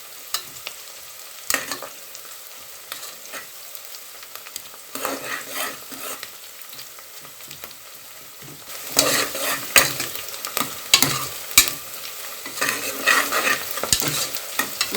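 Onions and green chilies are stir-fried in a pan toward brown for vegetable pulao, a continuous hiss of frying under repeated scraping and clattering spatula strokes that grow busier and louder midway, near and without talk.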